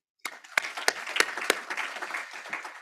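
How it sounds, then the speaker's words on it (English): Audience applause at a professorial inaugural lecture: a burst of clapping from a hall crowd starts abruptly, with several sharp louder claps standing out early, then sustains as a dense, steady patter for a few seconds. "Give yourself a big applause, please."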